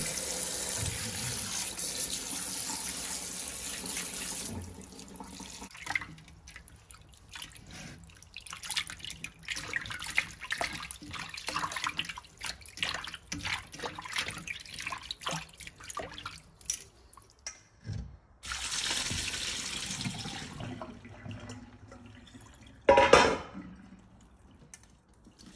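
Grapes being washed for homemade grape wine under a running kitchen tap: a steady splashing stream of water with drips and a brief clatter, fairly close, with no talking.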